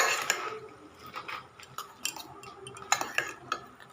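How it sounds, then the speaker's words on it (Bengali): Spices are stirred into food in a pan, with irregular scraping and clinking of a metal spoon against the vessel, moderately close, with a faint sizzle underneath and no talking. "ইপির মশলা মিশিয়ে নিলাম ভালো করে"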